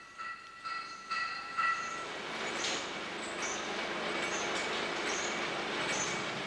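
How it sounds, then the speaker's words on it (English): An oil train trundles along a palm plantation steam railway in Sumatra, a steady rolling rumble with rhythmic clanks and a few squealing wheel tones, fairly distant and continuous. "these oil trains make a fascinating sight as they trundle their way through the tropical landscape"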